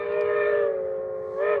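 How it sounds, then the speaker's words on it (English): A train whistle sound effect rings out as a sustained, steady, bright tone that dips slightly, then swells again briefly near the end, heard alone and fairly loud. "I'm getting the train whistle on that one."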